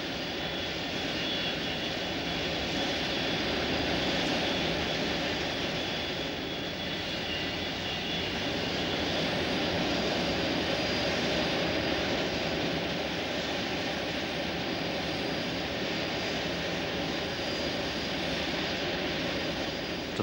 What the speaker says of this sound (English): the Jumbo's size makes it seem practically stationary in the air